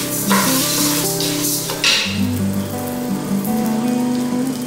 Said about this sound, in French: je mets ma casserole au feu, je rajoute un peu d'huile de tournesol, puis je mets mon riz.